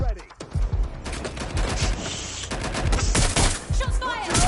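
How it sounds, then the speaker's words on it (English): Rapid bursts of gunfire crack and rattle in the video game Watch Dogs Legion, loud and close, with repeated volleys overlapping throughout and voices shouting over the shots. "Shots fired!"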